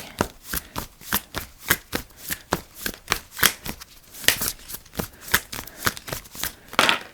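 Tarot cards being shuffled by hand, a close, rhythmic series of crisp riffling bursts about twice per second, with no talking.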